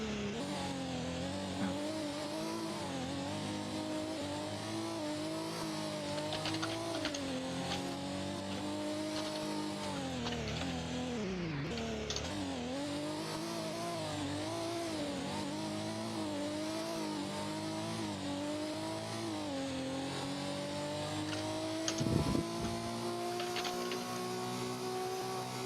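Video game race car engines whine at high, sustained revs during a six-hour endurance race, pitch rising and dipping through corners, with a brief tire squeal near the end.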